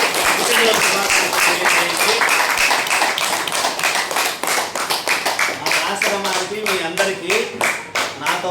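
A room full of people at a birthday celebration applauds loudly and steadily, with dense clapping throughout that thins into scattered claps near the end, with voices mixed in.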